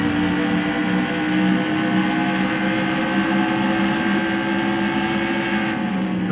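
Stock car engines roar in the NASCAR Racing 2003 video game during a simulated Pennzoil 400 Cup race, a loud, sustained high-pitched drone of several engines at full throttle.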